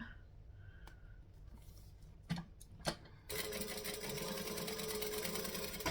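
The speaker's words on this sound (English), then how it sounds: "So again, we're chain stitching." A sewing machine chain stitches a strap for a triangle bag, starting after a few quiet clicks and then running in a steady, fast, close whir to the end, with no talking.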